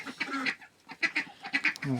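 Domestic ducks in their pen during a cleaning, giving several short nasal quacks and honks close by in quick bursts, with brief quiet gaps between calls.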